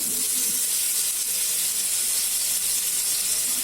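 Vanjaram fish frying on an iron dosa griddle, giving a steady, close, loud broadband hiss and sizzle throughout with no pauses and no talk.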